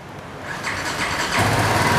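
A nearby 2018 BMW G310GS motorcycle engine rumbles through its stock exhaust, rising slightly in loudness and then holding a steady idle.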